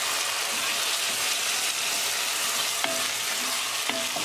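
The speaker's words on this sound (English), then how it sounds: "I'm going to open the lid, mix it." Tender tomatoes and beans being stirred in a pot after cooking under a lid, with a continuous close sizzle and a few soft spoon scrapes against the pot, no talk.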